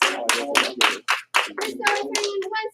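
Children clap in a karate class in a series of loud, close, sharp bursts of applause with brief pauses between them, joined by faint kids' voices.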